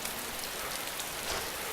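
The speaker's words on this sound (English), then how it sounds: "it's raining" Rain falls steadily in the survival video game DayZ, an even, soft hiss of drops on surfaces with no talk.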